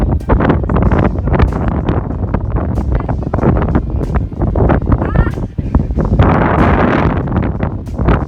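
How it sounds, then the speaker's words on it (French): Strong wind blows outdoors in Edinburgh, battering the microphone with loud, rough, gusting rumbles that rise and fall without a break. A few brief, faint voices may come through under the buffeting. "Il y a plein de vent."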